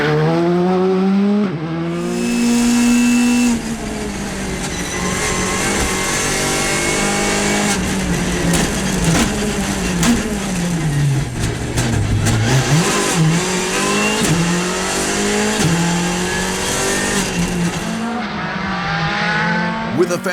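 A Skoda Fabia R5 rally car races at a European rally event, its engine loud and near, climbing and dropping through repeated gear shifts in a sustained high-revving run.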